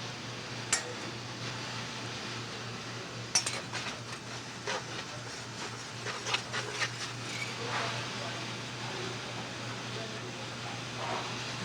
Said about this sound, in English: by using the back of the knife, we're able to scrape out all those seeds